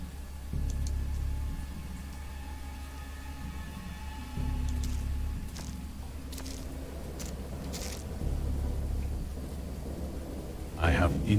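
Heavy rain pours steadily in a thunderstorm from the horror game Dagon, with deep rolling thunder swelling in several long waves and crackling bursts near the end.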